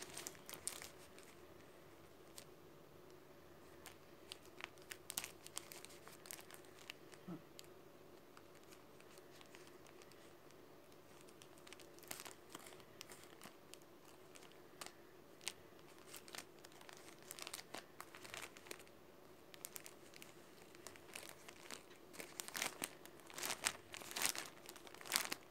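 Cargo parcel packaging gets opened and unwrapped, faint crinkling and tearing of plastic and paper in scattered bursts that grow busier toward the end, with no talk.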